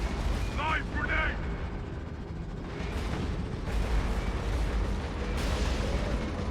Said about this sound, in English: Live grenade!